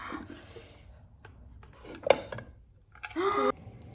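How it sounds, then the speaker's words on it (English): A plate is handled to flip a Spanish tortilla in a pan, giving a few quiet clinks and a brief scrape near the end, with soft kitchen background and no talk. "Now we're gonna use this plate to flip it and then cook it on the other side."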